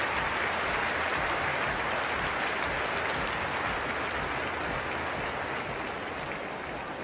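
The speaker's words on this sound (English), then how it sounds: "Give him a round of applause." Sustained applause from a large arena crowd at an indoor international horse driving competition in London, a dense, steady roar of clapping filling the whole stretch at even loudness.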